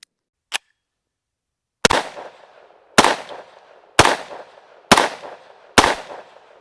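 Gunshots from a Tommybuilt T7, a clone of the MP7, firing about five rounds in a slow, uneven sequence of loud, sharp cracks, each with a short echoing tail, preceded by faint metallic clicks.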